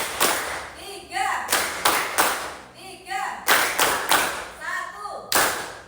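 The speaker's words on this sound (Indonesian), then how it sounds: "Tepuk tangan banyak tepuk ya." A classroom group claps hands together in a counting clap game, several sharp rhythmic bursts of clapping separated by short pauses, with a teacher's voice calling out between them.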